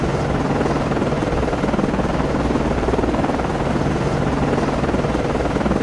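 Helicopter rotor and turbine thrum as it lands on a DDG-79 destroyer in the Cold Waters naval game, a steady dense drone with no pauses, loud and close throughout.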